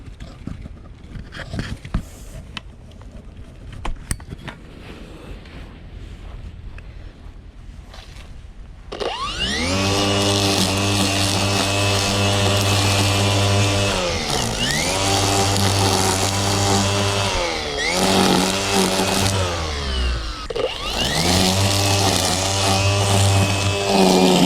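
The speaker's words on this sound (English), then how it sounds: "So let me do some trimming." A Makita XRU13Z battery string trimmer starts after a quiet stretch of faint handling noise, then whines steadily while trimming, with brief dips and surges in pitch as it works, close and loud.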